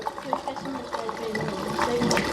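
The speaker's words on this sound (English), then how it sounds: "I'm pouring gas into the car." Gasoline being poured into the fuel tank of a 1983 Mazda RX-7, a soft continuous liquid trickle and splash heard close by under background noise, with brief voices nearby.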